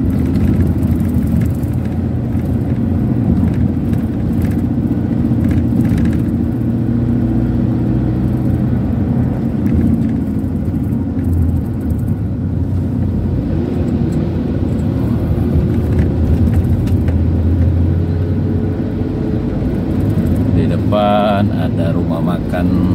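Luxo bus from Putra Pelangi Perkasa cruising at about 60 km/h on a bumpy, wavy section of the Lintas Timur highway in Sumatra, with a steady loud low engine and road rumble throughout.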